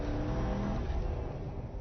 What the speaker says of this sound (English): Engineers stripped out all the sound deadening and insulation from the engine compartment, and the result is small block music.